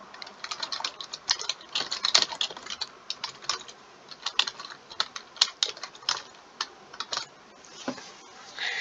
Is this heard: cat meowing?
no